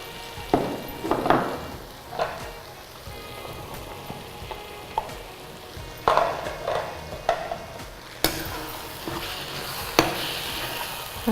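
Mushrooms tipped into onions already frying in hot oil for a mushroom gravy, giving a steady close sizzle broken by several sharp bursts and stirring clatters as they hit the pan and get mixed.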